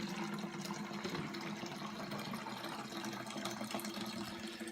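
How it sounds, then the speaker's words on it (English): Water steadily streams from a filter tap into a jug, a continuous close splashing fill with a faint hum underneath and no talk. "fill up the jug."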